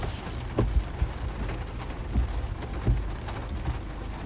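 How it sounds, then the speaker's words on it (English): Storm noise from a Kansas/Oklahoma/North Texas Panhandle severe weather chase with 70 mph winds and hail, a steady roaring wash of wind and rain with a few dull thumps, loud and without speech. "70-mile-an-hour wind in here."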